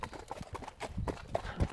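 Horses' hooves clip-clopping along a trail, a quick uneven run of soft thuds at close range over a brief stretch.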